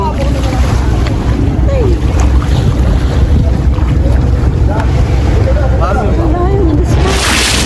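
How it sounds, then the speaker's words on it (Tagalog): An island-hopping boat in El Nido motors across water with steady engine rumble and heavy wind buffeting the microphone, and faint voices mixed in. "Nasa bangka na kami"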